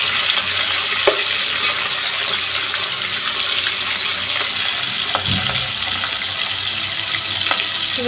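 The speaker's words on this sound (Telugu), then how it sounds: "కొంచెం బ్రౌన్ కలర్లోకి వచ్చేంత వరకు ఫ్రై చేసుకుందాం." Green chillies, curry leaves and onions fry in a pan for veg biryani, giving a loud, steady close sizzle with a few faint clinks of stirring throughout.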